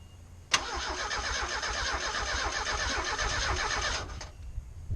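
A 1990 Ford Mustang 2.3 turbo engine cranks on its starter in one steady, loud whirring run of about four seconds, starting abruptly and cutting off, with no talk.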